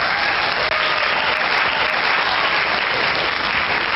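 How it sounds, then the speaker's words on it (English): A round of applause sound effect plays on cue during a comedy podcast, a dense steady clapping crowd that holds loud and unbroken for the whole stretch. "Scott, roll that round of applause audio"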